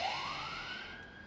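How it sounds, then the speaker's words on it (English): A siren wails in the distance, its tone sweeping upward and holding, faint and alone with no voices. "Cue siren."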